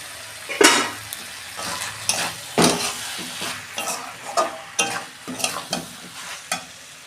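Jackfruit and potatoes sauté in a pan, sizzling steadily while a spatula scrapes and stirs in irregular strokes, some sharp and loud, others softer, with no talking.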